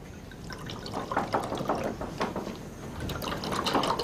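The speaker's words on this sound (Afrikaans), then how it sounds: "Sal ek so lank wyn skink?" Wine poured into a glass at a cozy home gathering, a steady close liquid trickle and gurgle lasting several seconds with soft splashing, no talking.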